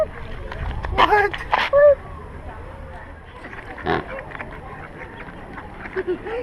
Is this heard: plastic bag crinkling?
no